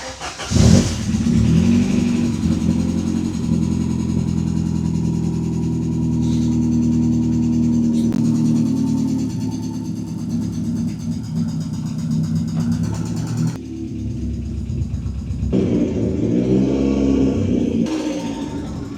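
Ford Sierra Cosworth RS engine running rough on a test drive, struggling to rev, a loud close drone that rises and falls through several revs and gear changes over nearly twenty seconds, heard alone without talk.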